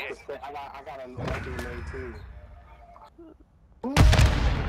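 A grenade blast in a video game bursts out loud and broad near the end, following an excited voice talking over faint gunfire-like game sounds.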